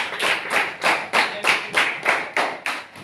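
Rhythmic clapping at a high school gathering, about eight evenly spaced loud claps in a steady beat, close and clear with no talking over them.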